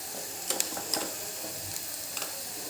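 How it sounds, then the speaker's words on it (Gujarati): Onions frying and hissing in a pan, with a few sharp scrapes and clinks of a spoon stirring them, then a steady faint sizzle with no one talking. "ડુંગળી થોડીક શેકાય ત્યાં સુધી આપણે હલાવવાનું છે"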